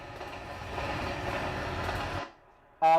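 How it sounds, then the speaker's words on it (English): A train passing in the video game Euro Truck Simulator 2, a moderate rolling rumble that cuts off sharply after about two seconds, followed by a short, loud tonal burst. "there's a train coming through."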